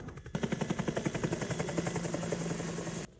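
Helicopter in the 1979 film Apocalypse Now, rapid rhythmic rotor thumping that starts abruptly, holds steady and loud with a droning engine underneath, then cuts off.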